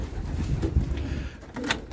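Pigeons coo inside a dry breeding loft full of young birds, low murmuring calls close by with a couple of brief sharper sounds toward the end.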